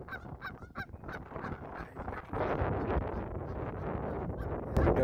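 An agitated goose guarding its nest of eggs honks in a rapid series of loud, harsh calls up close, followed by strong wind roaring and buffeting the microphone.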